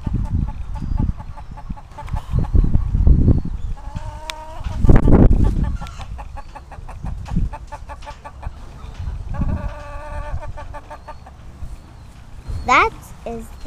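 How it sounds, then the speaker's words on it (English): Chickens cluck in a busy coop, with overlapping calls and short squawks, while people talk softly in the background. "That is the chickens."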